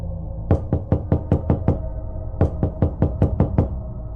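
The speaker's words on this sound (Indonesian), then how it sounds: "sayup-sayup terdengar suara ketukan." Knocking on a door in two quick series of about seven raps each, loud and close, separated by a short pause, with no voices.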